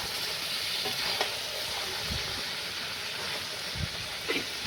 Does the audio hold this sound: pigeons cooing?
no